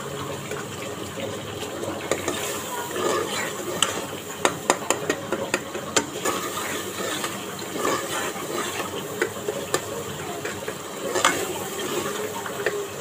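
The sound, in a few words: stirring and roasting masala for daal mash on high flame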